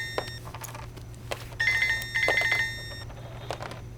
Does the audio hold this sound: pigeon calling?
no